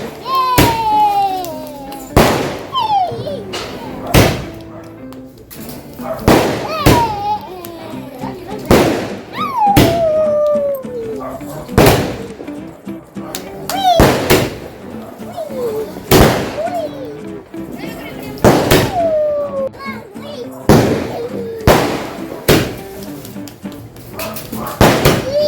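Firecrackers burst at a home during the Tulasi festival, a string of sharp, loud bangs repeating every second or two across the scene, with people talking and calling out between and over the blasts.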